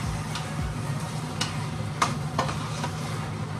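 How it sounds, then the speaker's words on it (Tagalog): Chicken sautéing in a pan, a steady low sizzle with a few sharp clinks and scrapes of a utensil stirring, close and moderately quiet with no talk. "Igisa-gisa mo lang na ganyan mga paps."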